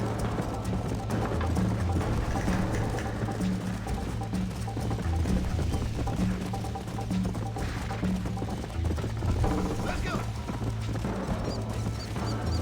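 A horse galloping in the game Red Dead Redemption on PS4, steady rapid hoofbeats thudding close and continuous throughout, with faint game ambience and occasional talk underneath.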